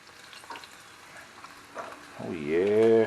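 Pieces of fresh-caught crappie sizzle softly and steadily as they pan-fry in oil, and a voice rises over the frying near the end.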